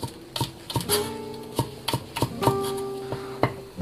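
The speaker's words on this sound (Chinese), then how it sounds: "葱切成小圈" A knife chops ginger and scallions into small pieces on a cutting board, with sharp, distinct thuds in an irregular rhythm, roughly a dozen close, crisp strikes, while faint ringing tones linger between cuts.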